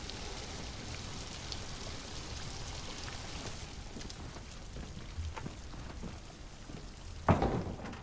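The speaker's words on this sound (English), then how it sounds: "We're gonna get out of the rain." Steady rain in a video game patters softly on surfaces, a quiet continuous hiss with a brief thud near the end.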